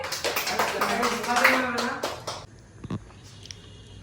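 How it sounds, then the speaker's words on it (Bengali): Hands clap briskly and fairly close at a birthday celebration for about two seconds, with voices mixed in, before the clapping stops and a few quieter sounds follow. "হাততালি দে সবাই।"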